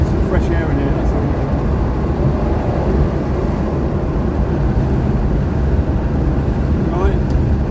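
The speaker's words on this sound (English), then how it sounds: "wind noise because we've got my window open" Wind rushes through an open window of a moving 1981 Cadillac Seville on the road to a classic car show, a steady loud roar mixed with low road and engine rumble throughout.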